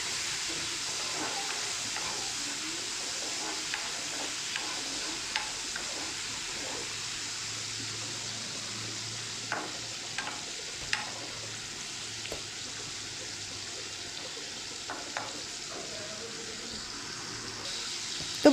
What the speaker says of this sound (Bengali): চিংড়ি মাছগুলোকে একটু 1 মিনিট মতো ফ্রাই করে নেব।